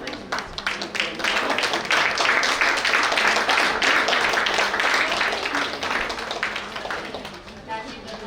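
A theatre audience claps continuously for several seconds, welcoming a director and actor onto the stage at a stage performance, dense and fairly close, tapering slightly near the end.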